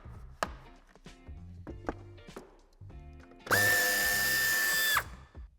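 A cordless power tool whirs at high speed for about a second and a half, loosening a bumper screw on a 2021 BMW 4 Series Gran Coupé, preceded by scattered clicks and knocks of hands handling plastic trim nearby.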